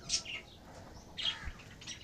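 Pet birds kept alongside pigeons and chicks give a few brief high chirps, two small clusters of tweets standing out faintly against a quiet room background.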